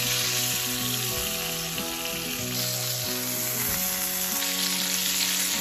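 Chicken breast frying in a pan until golden brown, a loud, continuous close sizzle with occasional shifts as the meat is moved, no voices.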